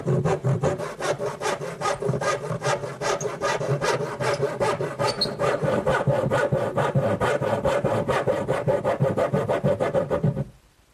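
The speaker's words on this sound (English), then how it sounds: "I'm going to use my back saw" A back saw cuts a notch into the top front corner of a wooden Shaker woodbox part in quick, regular push-pull strokes, close and loud, then stops abruptly just before the end.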